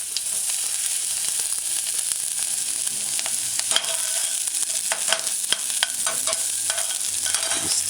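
Sliced onions frying in spiced cooking oil in a hot saucepan, a steady close sizzle with occasional spoon stirs and light scrapes against the pan.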